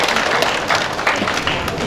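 Applause from a memorial ceremony audience thanking a film director, a dense steady wash of clapping close by for about two seconds, no voices.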